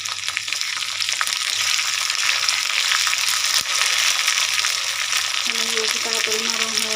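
Chopped tomato fries in a pan of spiced oil for chickpea curry, a steady close sizzle with bursts of crackling and stirring, and a low hum near the end.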